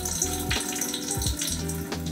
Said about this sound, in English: Pour the fixer in.